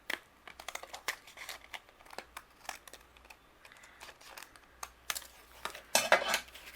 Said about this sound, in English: I'm going to trim just one side off here.